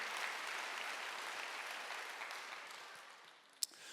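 A church congregation at a Wednesday worship service applauds together in a steady, dense wash of clapping that slowly fades, ending with one sharp clap.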